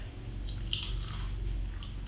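Crisp crunching bites of golden-brown sourdough crackers, close-up and fairly steady, over a low background hum.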